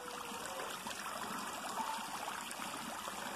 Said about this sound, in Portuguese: Colocando a própria água do tanque para circular.